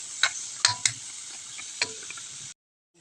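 Vegetable filling with bean sprouts and cabbage for lumpia is stirred in a pan over a steady sizzle, with a few sharp clicks and scrapes of the utensil before it cuts to silence.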